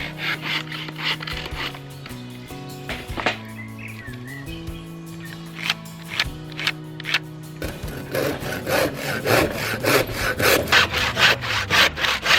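Hand sawing through wood, with rhythmic back-and-forth rasping strokes close by, slower at first then speeding into quick regular strokes; faint birdsong behind.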